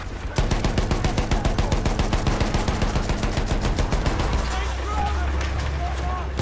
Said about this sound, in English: There, enemy machine gun.